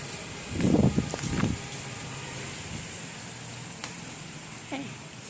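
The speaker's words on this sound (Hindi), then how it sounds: "ये देखो बारिश शुरू हो गई है ना।" Heavy rain begins falling outdoors, a steady, moderately close hiss of drops that settles into a continuous wash after a brief burst of louder noise at the start.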